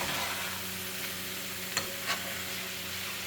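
Chicken seasoned with black pepper sizzles steadily in a frying pan while a utensil stirs it, with a couple of sharp scraping strokes over the constant close hiss.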